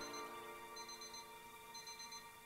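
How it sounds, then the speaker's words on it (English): An alarm in the VR horror game Stifled rings as a thin, high electronic tone that pulses in repeating bursts over a faint hum, fairly quiet and without any voices. "Is this the alarm?"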